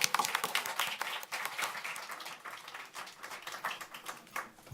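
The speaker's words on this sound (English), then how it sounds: "Let's give them a round of applause." Applause at a school board meeting, scattered hand claps from a modest crowd of families and guests, quiet and uneven, tapering off over several seconds in a large room.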